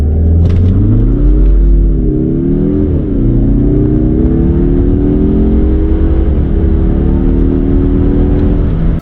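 A stock 2021 Mazda 3 2.5L turbo sedan launches for a quarter-mile run, the engine revving loud and close, holding high revs, dipping briefly, then pulling hard in a continuous rising roar.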